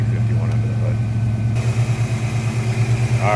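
A 1939 Ford Deluxe Coupe street rod with a Ford 351 V8 idles with a deep, steady, pulsing rumble, heard close and continuous from the engine bay, while a person talks over it.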